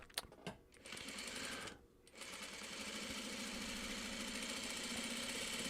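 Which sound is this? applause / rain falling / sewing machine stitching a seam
sewing machine stitching a seam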